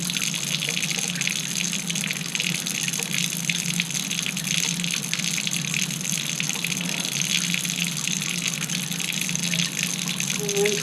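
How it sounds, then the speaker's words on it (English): Copper jewellery piece rinsed under a running tap, a steady close gushing splash of water that continues without break throughout. "And rinse it off."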